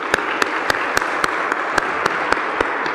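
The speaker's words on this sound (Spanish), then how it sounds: "Yo les pido un aplauso, por favor." An audience applauding at a lecture, with sharp claps in a steady, evenly spaced rhythm over a continuous bed of crowd clapping.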